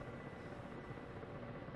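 A Ka-50 helicopter in DCS hums from the cockpit as a steady, dense rotor and engine drone, low and even, with no breaks across the short stretch.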